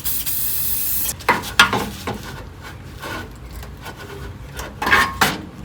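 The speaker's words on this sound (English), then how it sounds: "Just using some silicone spray." Silicone spray aimed at a car's exhaust muffler hanger: a long hiss up front, then bursts of spraying alongside scraping and rubbing of metal parts, loud and close.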